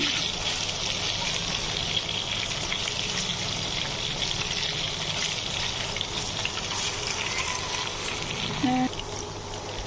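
Chicken popcorn deep-frying in oil, a dense, even bubbling sizzle that holds steady throughout, close up, with a brief clink of a utensil near the end.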